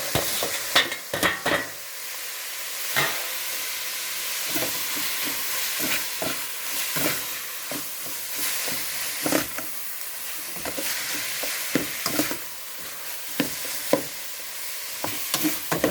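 Shrimp, squid and shiitake mushrooms are stir-fried in a pan: a continuous sizzle with repeated sharp scrapes and clacks of a utensil against the pan, close and fairly quiet, with no talking.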